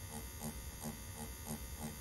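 A permanent makeup machine runs at a slowed speed, giving a steady close electric buzz with a regular pulsing beat about three times a second.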